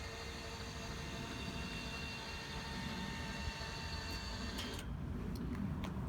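A Bruno Chariot scooter lift lowers its platform with a steady electric motor drone and mechanical whine, ending in a few sharp clicks as it stops.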